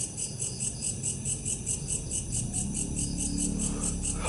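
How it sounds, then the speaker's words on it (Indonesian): Crickets chirp steadily at night in a cemetery, a rapid pulsing trill repeating evenly and close, with a faint low rumble beneath and no voices. "Suara jangkrik di sini juga menambah nuansa-nuansa sound alami ya."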